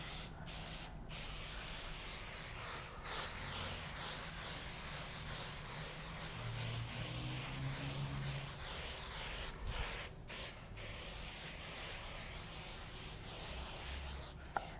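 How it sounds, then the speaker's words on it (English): Spray adhesive hisses from an aerosol can onto quilt batting in a continuous, even spray lasting most of the stretch, broken only by a few brief pauses. "All right, and we're ready to spray."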